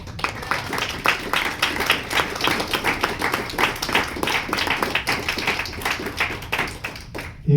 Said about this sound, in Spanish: Otro aplauso, por favor, para los poetas.